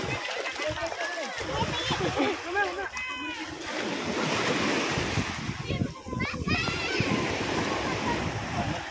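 Waves wash and splash continuously nearby, a steady rushing surf with voices talking over the water.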